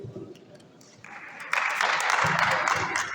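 Audience applause for presenters at an entrepreneurship venture creation event, swelling from scattered claps into steady, dense clapping in the hall, with voices underneath.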